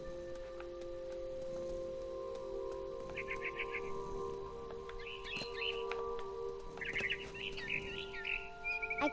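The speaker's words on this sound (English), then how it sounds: "All I cared about was eating that mama bird." Small birds chirp in short bright bursts in the game What Remains of Edith Finch, faint and intermittent over a low steady drone while a narrator talks.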